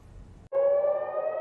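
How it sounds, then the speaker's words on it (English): After a brief pause, a loud steady air raid siren over Israel starts wailing and holds a sustained tone. "Sirens blared over Israel Monday morning"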